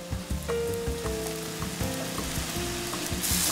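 Food sizzling and frying as it is moved straight from one hot pot into another, a loud continuous crackle with soft stirring knocks and scraping throughout, no talk.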